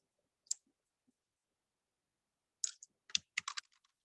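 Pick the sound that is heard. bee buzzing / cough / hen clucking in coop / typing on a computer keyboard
typing on a computer keyboard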